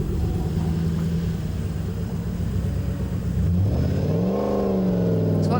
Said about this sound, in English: There's a D-class truck. It's got a Lexus motor in it.